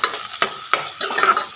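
Cumin and dried red chillies frying in a pan, quick scraping stirs with a crackling sizzle, close and loud in a short burst with no talking.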